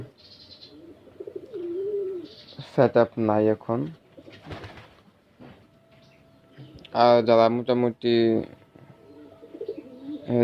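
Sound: pigeons cooing

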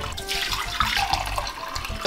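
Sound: water poured into a pot to boil for rice pudding

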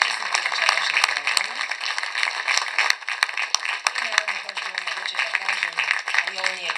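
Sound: audience applause for a singer

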